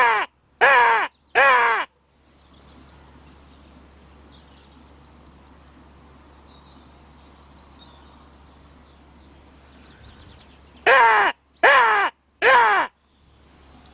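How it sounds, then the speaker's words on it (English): Raven calling outdoors in the UK countryside: a pair of harsh, loud caws, then a long quiet stretch of low ambient hum, then three more caws in quick succession near the end. "But it's not a crow, it's actually a raven."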